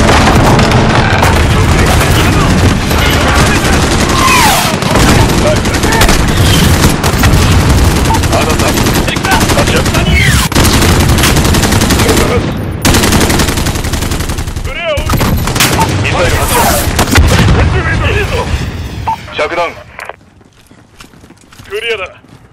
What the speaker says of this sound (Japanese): 了解、ミサイル発射。